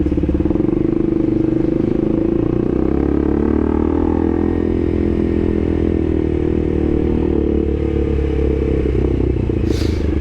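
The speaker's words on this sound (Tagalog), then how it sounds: "medyo iba yung tunog ng motor natin ngayon." A KTM RC200 motorcycle fitted with an SC Project exhaust idles loud and close, a steady deep engine drone with a rough, uneven pulse throughout, heard alone with no talking.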